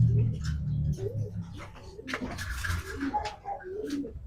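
Pigeons coo in low, throaty bursts, several birds close by, with some indistinct voices and rustling mixed in.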